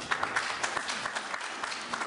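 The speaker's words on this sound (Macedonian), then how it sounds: "Аплаузот со кој дел од пратениците од власта го поздравија настапот на Николовски" Members of parliament applauding in a legislative chamber: a brief, moderately faint patter of scattered clapping from a group, heard alone with no speech.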